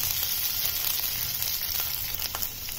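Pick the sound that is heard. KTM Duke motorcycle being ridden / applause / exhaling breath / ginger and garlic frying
ginger and garlic frying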